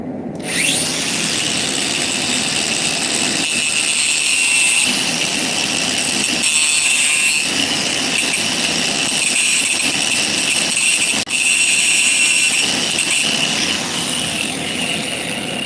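An angle grinder shaping a steel railroad spike into a tool, a loud, continuous high whine that holds steady throughout, with slight shifts in pitch and one brief dip near the end.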